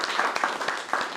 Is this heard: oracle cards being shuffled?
no